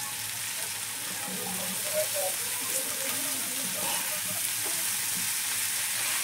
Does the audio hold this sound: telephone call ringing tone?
no